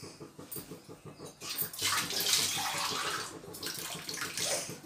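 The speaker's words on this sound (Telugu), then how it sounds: "కొంచెం వాటర్ వేసుకుందాం." Water pours steadily into a pot, a rushing splash that swells midway and continues without pause, close up with no talking.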